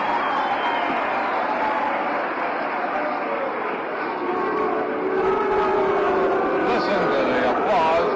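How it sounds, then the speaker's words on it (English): A baseball crowd applauds for Dick Power at a 1960 Cleveland Indians vs Kansas City Athletics game, with a broad, sustained roar of clapping and cheering from many people that swells slightly toward the end. "Listen to the applause for Dick Power."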